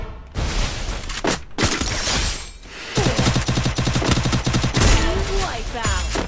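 Free Fire video game gunfire with sniper play: loud, dense bursts of rapid shots and heavy booms that crowd together with only brief gaps.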